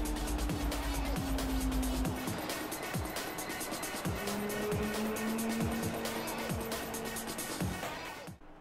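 IndyCar open-wheel racers on the Road America road course in Project Cars 3, a loud engine note rising and falling through gear shifts with tire squeal and other cars passing close, cutting out abruptly at the end.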